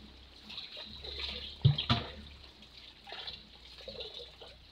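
Water splashes during hot weather, with a sharp, close splash burst near the middle over a steady background of running, trickling water; no one speaks.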